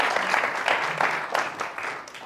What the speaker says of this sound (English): Let's get a round of applause for our